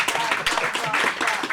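A church congregation claps and cheers in praise of the Lord, a dense, lively burst of applause and acclamation filling the hall briefly.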